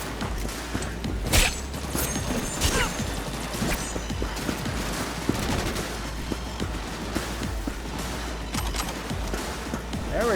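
Continuous gunfire in the video game Cyberpunk 2077, sharp repeated shots and bursts over mechanical clatter and crashes, steady and dense throughout a firefight.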